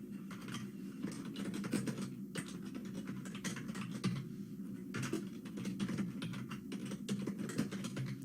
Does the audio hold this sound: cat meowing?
no